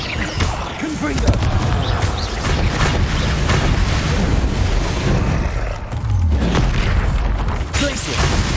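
Confringo blasting spells explode in the Hogwarts Legacy video game, loud booming bursts amid dense, continuous combat noise, with voices calling out throughout.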